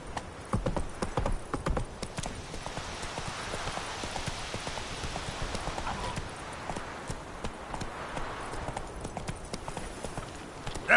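Roach the horse gallops in The Witcher Wild Hunt, with steady, rapid hoofbeats pounding close by throughout, under a constant wash of background ambience and an occasional faint voice.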